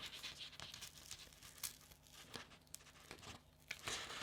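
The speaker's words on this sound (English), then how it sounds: "I'm going to start peeling my masking tape off" Masking tape is peeled off peel-off sticker negatives, faint close-up crinkling and tearing with irregular short rips and rustles, no voices.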